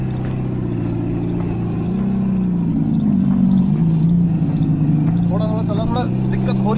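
A Revolt RV400 electric motorbike ridden off-road on a dirt track, a steady low drone rising and falling as it speeds up, with a voice talking over it throughout.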